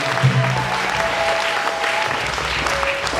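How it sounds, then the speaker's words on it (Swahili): A church congregation applauds for Jesus with loud, sustained clapping that fills the space evenly throughout, with no speech over it. "Pigia Yesu makofi mengi"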